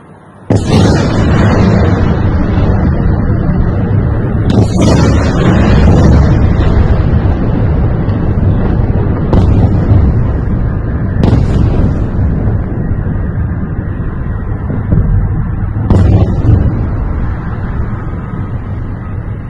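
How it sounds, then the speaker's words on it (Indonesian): Several heavy, booming explosions from hypersonic Zircon cruise missile impacts in Kyiv, at irregular intervals, each a sharp loud blast that rolls off, over a constant background rumble and wind. "Dua dentuman awal di video ini dikatakan adalah dentuman dari hantaman rudal jelajah hypersonic"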